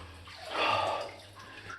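Someone wades knee-deep through cold water inside the Copper Queen mine, a single swishing, splashing surge of water rising and fading, fairly faint and close.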